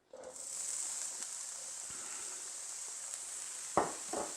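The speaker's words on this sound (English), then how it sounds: "And you just want to throw that in the pan and brown it up." Chopped bacon sizzles steadily in a hot pan, a constant bright hiss of frying fat with a couple of louder pops and spatters near the end.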